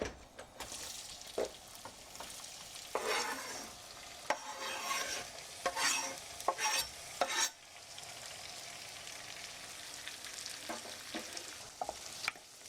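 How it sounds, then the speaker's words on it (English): Onions sauté in melted butter in a pan on a stove, giving a soft, steady sizzle broken by bursts of scraping and stirring, close and fairly quiet, with no voices. "Now this goes over to the stove to saute in some melted butter."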